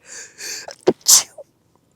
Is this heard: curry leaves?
no